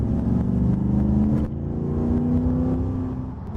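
A Pontiac Firebird engine revs and pulls hard in second gear, a loud, steady rising drone that briefly dips before climbing again, close and with no talking over it.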